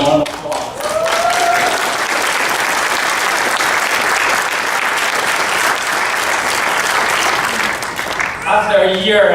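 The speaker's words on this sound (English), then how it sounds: "give them a round of applause" Graduation ceremony audience bursts into sustained applause, a loud continuous wash of clapping lasting several seconds before it tapers and a voice begins speaking at the end.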